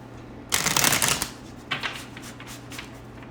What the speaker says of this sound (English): I'm going to do another shuffle here for you